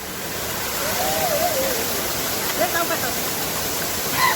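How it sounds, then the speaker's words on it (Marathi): Donawade waterfall roaring with strong wind and spray, a dense, steady wash of noise with faint voices barely audible under it. "वारा आणि पाण्याचा एकदम जोरात मारा होतोय, त्यामुळे आवाज नाही येणार"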